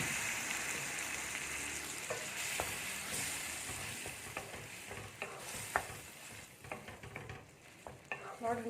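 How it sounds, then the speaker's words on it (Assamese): Boiled bathua greens going into a spice mix frying in a pan, with a steady sizzle and scattered scraping stir clicks that grow sharper and more spaced toward the end. "ইয়াত মই এতিয়া সিজাই লোৱা শাকখিনি দি দিম"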